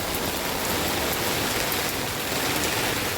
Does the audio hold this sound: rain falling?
yes